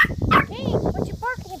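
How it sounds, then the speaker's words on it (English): Close, short dog barks and yips mixed with a whimper, with a person's voice overlapping. "what you barking about?"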